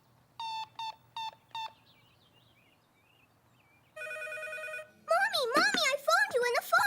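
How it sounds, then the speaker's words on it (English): A telephone rings four times in a quick repeating pattern, followed by an electronic tone and then lively cartoon voices and music in a children's animated show. "I phoned you and the phone rang"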